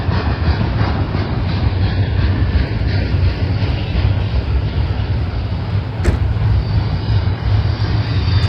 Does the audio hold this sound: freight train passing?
yes